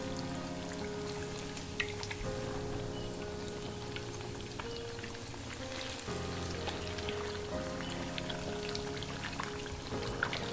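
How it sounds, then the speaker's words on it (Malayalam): Cheesy chicken pops frying in oil over a medium flame, a steady dense crackle and sizzle with fine popping bubbles, continuous and close throughout. "ഒരു മീഡിയം ഫ്ലെയിമിൽ ഇട്ടിട്ട് വേണം അത് പൊരിച്ചെടുക്കാനായിട്ട്"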